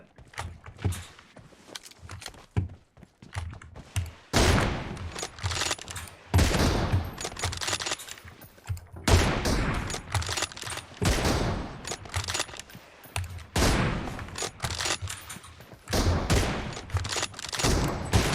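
Heavy gunfire in PUBG Mobile crackles in repeated rapid bursts and volleys, loud and close, with brief gaps between exchanges.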